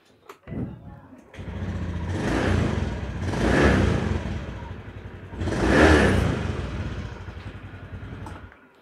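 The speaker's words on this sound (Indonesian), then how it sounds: "saya akan coba menyalakan mesinnya" A motorcycle engine with a CVT transmission, on a Honda Beat FI, starting with a short crank and then idling, revving up twice in swelling surges before dropping back, close by with a voice briefly heard.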